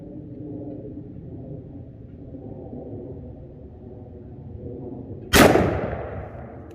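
A single loud handgun shot from a .44 Magnum or .454 Casull revolver fired into ballistic gel cracks out after several seconds of steady low rumble, its boom fading into a long echo.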